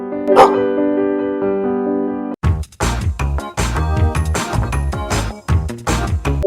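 A dog barks in a Genshin Impact scene, a burst of quick, sharp barks and yips following a sustained tonal note, loud and close against game sounds.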